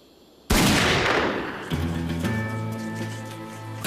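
Gunfire in a Lucky Luke cartoon shootout: a loud, sudden burst of overlapping shots cracks out and rumbles, followed by ringing, sustained tones as the echo fades.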